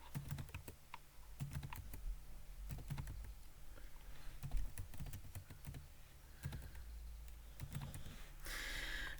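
Fingers tap numbers into a calculator keypad, a quick irregular stream of small plastic clicks heard up close and fairly quiet, in bursts with brief pauses and no speech.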